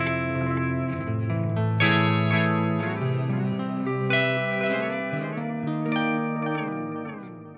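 An electric guitar plays through a Walrus Audio Mako D1 modulated delay pedal, sustained chords and notes shimmering with wavering echoes and lush repeats, heard alone.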